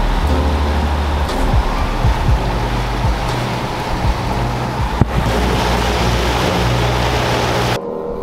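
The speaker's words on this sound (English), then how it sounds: "Got a bass boat ripping by" A bass boat's engine roars past nearby over rushing water and wind buffeting the microphone, the noise staying loud and steady throughout.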